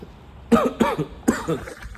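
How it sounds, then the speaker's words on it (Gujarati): A person with a cough coughs and clears the throat in a few close, harsh bursts, each a rasping, voiced hack, with quiet room sound between them. "ઉધરસ થઈ ગઈ છે"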